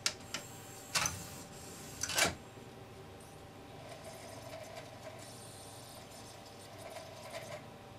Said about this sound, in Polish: Silnik kręci, laser próbuje znaleźć ścieżkę, wczytać TCO, ale niestety nie ma żadnego efektu.